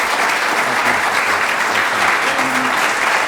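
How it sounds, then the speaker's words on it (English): A loud, dense round of audience applause, steady clapping from a large crowd that holds at full volume for the whole stretch. "let's give these gentlemen one more round of applause"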